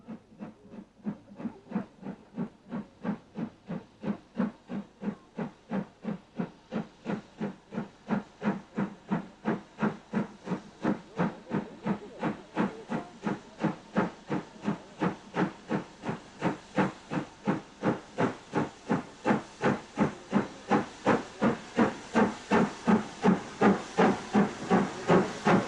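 A preserved steam locomotive, Britannia, working a mainline train over the Settle and Carlisle line, its exhaust beats loud and close, rising steadily in speed and volume into a rapid, even rhythm of chuffs with hissing steam, no voices.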